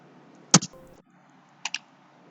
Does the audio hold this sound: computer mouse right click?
yes